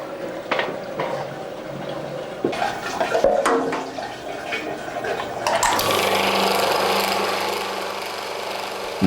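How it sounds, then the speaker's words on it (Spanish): Liquid anise mash pouring into a distillery holding tank, a steady splashing water rush with clattering and knocks at first, then a broader continuous gushing roar over a low motor hum. "estamos echando los cocimientos aquí en este depósito para después, a través del motor, pasarlo a otro depósito de mayor capacidad"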